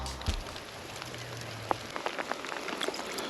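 Steady rain patters on the surface during a spring float-fishing session outdoors, a soft continuous hiss broken by scattered close drops and a few light knocks, fairly quiet throughout.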